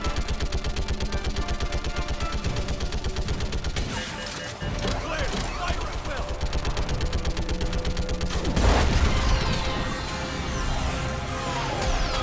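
Rapid sustained gunfire in the Mass Effect game, loud rhythmic automatic bursts running throughout, broken by a crashing impact midway and continuing with heavy blasts, close and dense.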